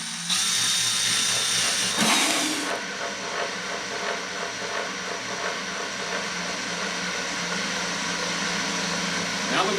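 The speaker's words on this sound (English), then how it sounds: "just go ahead and work your drill in." A power drill bores a hole through a plastic bucket lid, a steady loud whining grind with a sharp bite at the start, running continuously close by.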